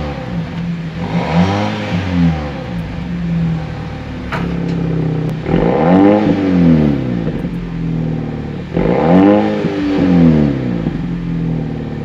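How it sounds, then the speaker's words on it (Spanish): A 2025 Dodge Attitude GT compact sedan revs up repeatedly through its dual quad exhaust, rising and falling in three loud, throaty bursts. "salida doble cuádruple de escape con sonido modificable"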